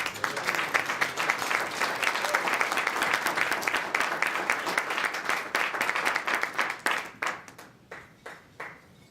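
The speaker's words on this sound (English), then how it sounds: "So I want us all to give a warm round of applause to the people's journalist, Askia Muhammad." A crowd applauds steadily with dense clapping, then it thins into a few scattered claps as it fades out.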